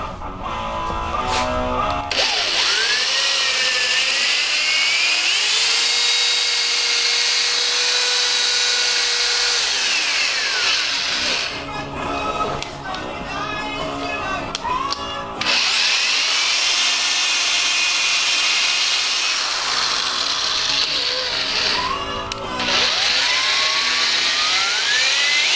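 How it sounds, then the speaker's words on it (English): A drill spins a polishing pad from a 3M headlight restoration kit against a hazed plastic headlamp, making a loud, steady whine with a rough, grinding edge. It runs in long bursts that pause and restart a few times. "Alright, so let's start polishing."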